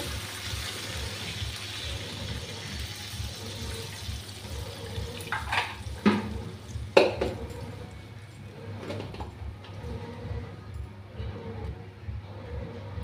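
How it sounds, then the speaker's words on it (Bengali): Gravy poured into a pan holding rohu fish and potatoes, making a steady close running-liquid sound with a few splashes and clatters in the middle before it eases off, no talking. "এখন আলুটা দিয়ে দিলাম, মাছটাও দিয়ে দিলাম, ঝোলটা দিয়ে দিচ্ছি।"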